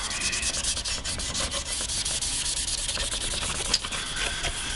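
Sandpaper rubbed back and forth over a stained maple guitar top, a continuous close scratchy rasp with steady rhythmic strokes and no talking.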